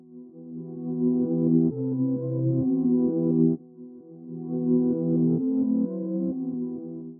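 A beat melody played in reverse and pitched down an octave, low swelling tones that fade in and cut off abruptly, in two similar phrases with a brief pause between them.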